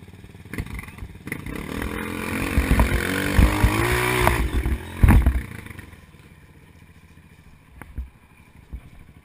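A dirt bike on a trail revs up, its engine note climbing and wavering for a few seconds with clattering and scraping, then dropping away to quieter rumble with occasional knocks.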